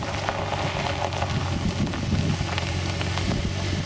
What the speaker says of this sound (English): that exhaust burble also comes through the speakers